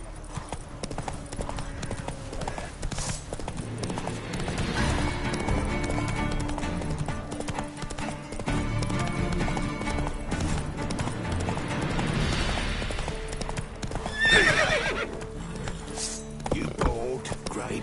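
Geralt's horse Roach gallops in The Witcher 3, with rapid, rhythmic hoofbeats that run steadily and close throughout. Voices and game ambience play over the hooves.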